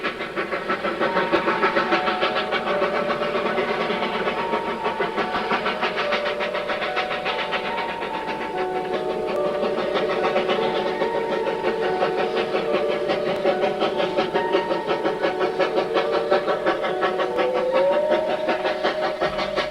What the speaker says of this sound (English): Narrow gauge railroading in the silvery San Juan winter.